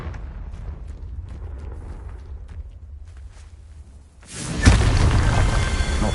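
A Confringo spell explosion bursts suddenly in Hogwarts Legacy after a stretch of quiet rumble and light ticks, then a loud, roaring blast that keeps rumbling to the end.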